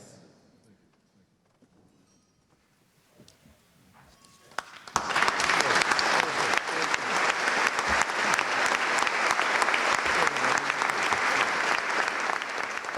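Quiet room murmur gives way to a sudden, sustained round of applause from the audience at the Mansion House dinner in the City of London after a toast to the Lord Mayor and Lady Mayoress, loud and continuous to the end.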